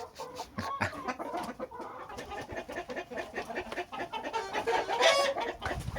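Caged rooster and chickens cluck and chatter in irregular bursts close by, with a louder squawk near the end and no talking.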